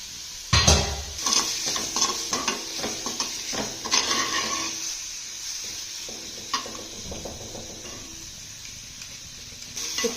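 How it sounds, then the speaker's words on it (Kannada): Grated bottle gourd frying in ghee, with bright sizzling and repeated clanks and scrapes of a spoon stirring in the pan, loudest in the first half and settling into a softer steady sizzle. "ತುಪ್ಪದಲ್ಲಿ ಅಟ್ಲೀಸ್ಟ್ ಒಂದು 5 to 10 minutes ನೀಟಾಗಿ ಹುರ್ಕೊಳ್ಳಿ"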